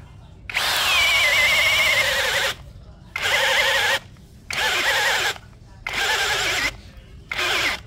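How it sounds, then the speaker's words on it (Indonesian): Cordless brushless drill driver boring a 13 mm auger bit into mahogany at a low speed setting, five loud whining bursts separated by short pauses, each ending as the motor stalls. "saya menggunakan mata bor auger 13 mm. Masih menggunakan kecepatan nomor 2"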